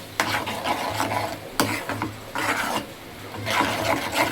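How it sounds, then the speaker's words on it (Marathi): Egg bhurji mixture with red chili powder being beaten briskly in a bowl, a close, continuous scraping and whisking with rhythmic bursts and brief pauses, no talking. "थोडी लाल मिरची पावडर आणि आता हे चांगलं फेटून घेते"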